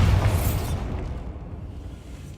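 Bombarda spell explosion in the video game Hogwarts Legacy: a single loud, booming blast that rumbles and fades over about two seconds.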